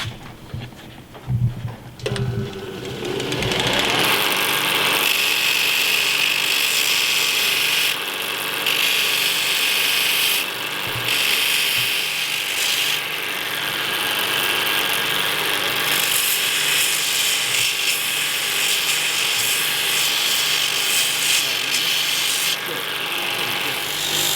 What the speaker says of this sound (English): And to polish it, we need to come down here to the polishing bench. What is it? Polishing wheel.